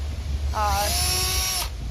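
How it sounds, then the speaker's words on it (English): A drill pre-drills pilot holes in wood for pocket door brackets during a container home build, a short steady whine of about one second with rising pitch, over low background rumble. "So that's what Jay's doing, is just pre-drilling the wood."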